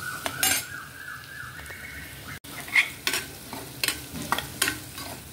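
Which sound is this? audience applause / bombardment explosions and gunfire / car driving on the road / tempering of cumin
tempering of cumin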